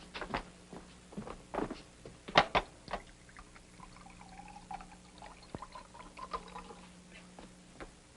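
Water poured into a glass in an old black-and-white film scene, a run of splashes and trickles with a few clinks and footsteps, fairly quiet and without talk.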